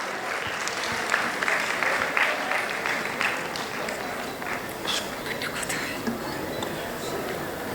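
A convocation audience applauds Dr. Pooja Saha at a medical college graduation, with brisk continuous clapping and scattered sharper claps, moderately loud, and voices faintly mixed in.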